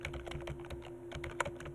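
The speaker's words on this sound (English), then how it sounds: "we're going to type" Brisk keystrokes tap out text on a computer keyboard in Excel, a rapid patter of close, crisp clicks over a steady low electrical hum.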